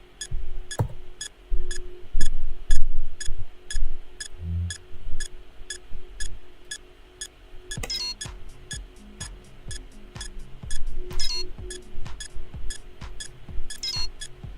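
Rapid, evenly spaced electronic beeps tick through a video game level, sharp and regular over low background music and thumping game sounds.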